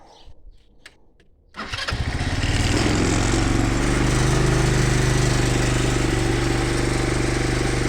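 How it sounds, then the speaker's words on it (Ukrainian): A few quiet clicks come first, then an engine catches with the choke closed and settles into a loud, steady, close running drone that continues to the end without speech. "воздухан, запустив і все пішло, тепер працює"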